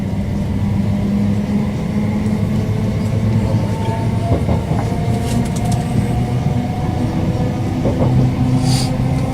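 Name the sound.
passenger train running on rails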